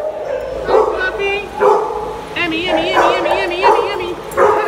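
A puppy whimpers and yips in repeated high, wavering cries close by, with a person's voice talking over them.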